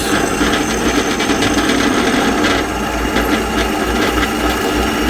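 Power drill boring into steel for an engine stand build, a steady grinding, rasping whir that runs continuously and loud at close range with no pauses.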